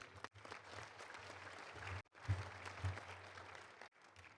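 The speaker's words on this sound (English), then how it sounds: "Give her a round of applause, please." An audience at a Little Rock Touchdown Club luncheon applauds steadily for a few seconds, a dense wash of clapping with a brief pause partway through.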